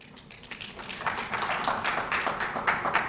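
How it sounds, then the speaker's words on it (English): Audience applause rings out at the ICCIU Business Dialogue 2026 in honour of the Uganda National Bureau of Standards, starting softly and swelling into a steady wash of clapping that lasts to the end. "we need even to clap for Uganda National Bureau of Standards"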